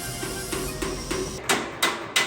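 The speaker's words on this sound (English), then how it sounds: "Now we need to hammer these seams flat." Metal hammer blows on bronze weld seams of a Buddha statue torso, about eight sharp strikes in a steady rhythm, the last three louder and ringing, close by with no talk.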